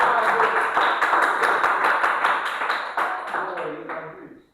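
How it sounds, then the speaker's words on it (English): A small audience at a quiz-show livestream gives a round of applause, a cluster of distinct claps ringing out over a hubbub of voices, then fading away to near silence. "Please, can we give him a round of applause?"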